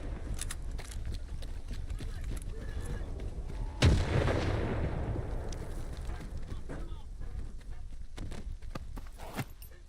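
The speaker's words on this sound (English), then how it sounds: "That's a nasty grenade." Gunfire and a heavy grenade blast in S.T.A.L.K.E.R. 2: Heart of Chornobyl, with a loud explosion near the four-second mark amid scattered shots and a rumbling aftermath, and faint voices mixed in.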